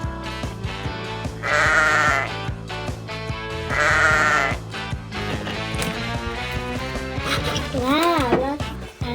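A voice imitates a baby sheep's bleat in two wavering bursts over steady background music, while a child plays with a Minecraft Lego set.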